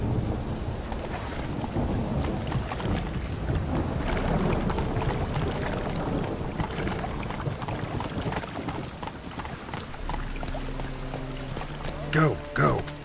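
Steady rain with rumbling thunder in The Witcher 3: Wild Hunt, a constant loud wash of rain under the scene, with a brief tonal sound near the end.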